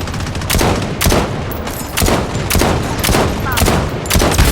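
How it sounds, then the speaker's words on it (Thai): Rapid gunfire in the shooter game Blood Strike: loud, sharp shots ring out in an uneven burst, roughly every half second, with echoing tails between them. "เหมือนมีคนยิงมาเลยเมื่อกี้"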